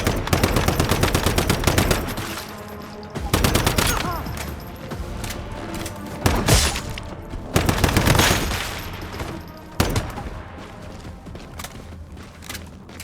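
Rapid gunfire and explosive bursts from a shooter game's firefight erupt in loud clusters, with sharp cracks and booming thuds recurring every few seconds over dense, sustained combat noise.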